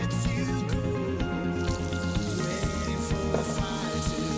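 Olive oil and butter sizzling in a hot frying pan on the stove, a dense continuous crackle and hiss close up with small pops, steady throughout.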